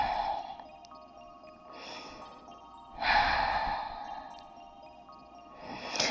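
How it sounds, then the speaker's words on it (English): Slow, deep breaths during a yoga stretch, close and soft, with long airy exhales repeating at an unhurried pace. "Nice big deep breaths."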